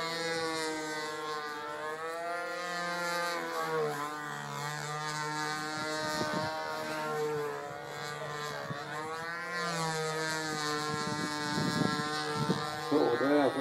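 High-pitched buzzing whine of a control-line model aircraft engine, rising and falling in pitch as the plane circles, steady and moderately distant, with a voice talking over it.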